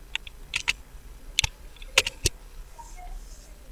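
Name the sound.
pressing Ctrl F on computer keyboard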